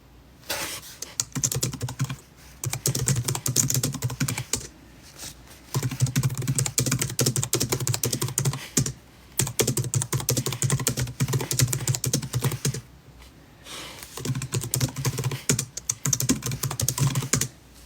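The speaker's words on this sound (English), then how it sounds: "I was just typing" Fast, close clatter of typing on a computer keyboard comes in bursts of rapid keystrokes separated by short pauses, with no voices over it.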